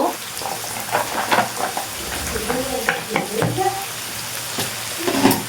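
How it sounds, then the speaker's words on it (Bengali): Garlic and onion frying in a pan for a dried-fish bhuna, a steady sizzle with scraping stirs, while a person talks intermittently over the cooking. "এখন রসুন আর পেঁয়াজ একটু সুন্দর করে ভেজে নেই"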